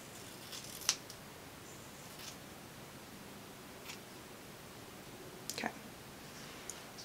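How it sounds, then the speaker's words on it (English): Scissors snip faintly at hair extensions in a point-cutting style, a few soft, scattered crisp clicks against quiet room hiss with no talk. "I'm just gonna keep point cutting pretty much until the end of time."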